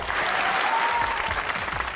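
Loud, dense studio audience applause on a comedy talk show, a continuous roar of clapping with a faint tone running beneath it.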